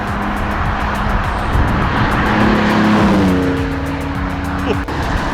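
A Vauxhall Vectra GSI V6 engine drones loud and steady with a rising and falling pitch as it revs and pulls away, with a short sharp knock near the end.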